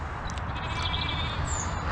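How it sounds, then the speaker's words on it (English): Sheep and a lamb in a farm paddock, with a few soft, thin bleats rising over a steady low rumble of wind and outdoor noise. "further on from the llamas is the sheep"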